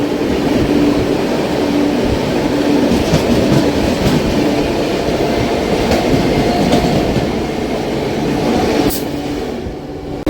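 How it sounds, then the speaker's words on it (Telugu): Sabari Express, the Thiruvananthapuram to Secunderabad train, passing close by a moving MEMU train, with a steady loud rumble and rhythmic clickety-clack of wheels on rails throughout, without speech. "ఇప్పుడు మనకి క్రాసింగ్ అయిన ట్రైన్ శబరి ఎక్స్ప్రెస్"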